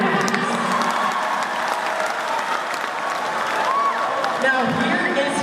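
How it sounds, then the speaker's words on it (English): An audience claps steadily and continuously at close range, with a hubbub of voices mixed in. "just Clap your hands."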